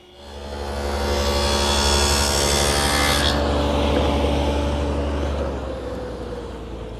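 A table saw with a tenoning jig riding in the miter slot cuts tenon cheeks on narrow rail stock for a planter box bench, giving a loud, steady whine and rasping cut that holds for several seconds before the blade winds down, with no talk.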